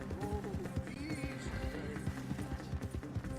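Horse hooves pound in a quick, steady galloping rhythm in Red Dead Redemption 2, close and loud, with a brief whinny mixed into the busy game audio.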